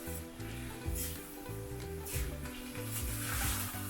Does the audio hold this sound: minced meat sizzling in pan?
yes